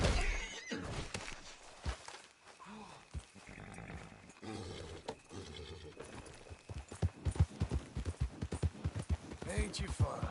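A horse in the video game Red Dead Redemption 2 lets out loud neighs and whinnies while hooves clip-clop in bursts, with someone talking over it throughout.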